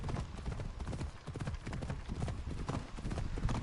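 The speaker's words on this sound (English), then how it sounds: "Yeah. Well, I got this horse." Steady clip-clop of horse hooves trotting in a PS4 video game, loud and continuous throughout with an occasional faint neigh and no talking over it.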